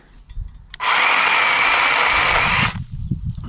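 A Dnipro-M CS-12 cordless chainsaw cuts through a tree branch outdoors in one loud, close, steady buzzing burst of about two seconds, with quiet rustling before and after.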